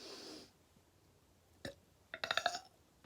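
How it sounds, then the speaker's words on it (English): A woman lets out a short, guttural burp that ends in a brief vocal flutter, loud and close amid an otherwise quiet room, preceded by a faint breathy sound and a small click. "oh, that's another thing. I burp a lot."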